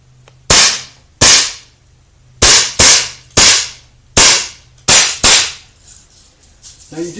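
A Heathway Plainsman 175 semi-auto CO2 BB pistol fires eight sharp, loud cracks in an uneven rhythm, some in quick pairs, each with a brief decaying tail, followed by faint handling noise.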